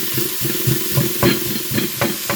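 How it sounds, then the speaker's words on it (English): Hamburger meat sizzles and crackles in a frying pan while a utensil scrapes and stirs it in a series of loud, close, irregular strokes over the constant hiss. "I need to cook it a little bit. So let me cook this around."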